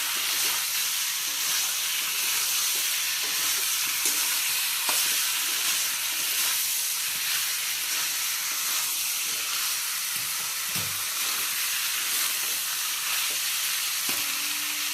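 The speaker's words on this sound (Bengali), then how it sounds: "এবার ভালোভাবে নেড়ে চেড়ে নেওয়া হবে।" Potatoes and chicken sizzle steadily in a hot pan for a home-style Bengali curry, a continuous loud frying hiss with occasional soft stirring scrapes and no talking.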